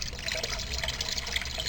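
An aquarium fish tank filter self-priming and starting to pour water back into the tank, giving a steady, close trickling and splashing flow with no voices.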